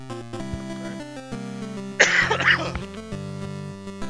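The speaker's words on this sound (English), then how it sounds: "Coughing is annoying." A cough in the NES game Robin Hood: Prince of Thieves, a short rough burst over steady chiptune music that lasts about a second before the melody carries on alone.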